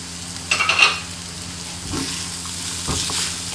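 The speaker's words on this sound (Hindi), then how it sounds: "इनको हमने बिल्कुल हल्का सा फ्राई करना है" Carrots and capsicum lightly frying in a pan, with a soft continuous sizzle broken by a few short stirring scrapes and clatters, close and fairly loud.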